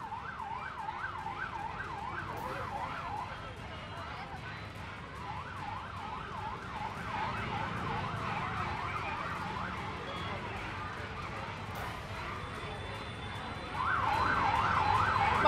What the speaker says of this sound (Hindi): हमें सायरन सुनाई दे रहा है पुलिस की जीपों का